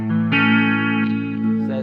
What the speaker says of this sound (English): there's my chorus.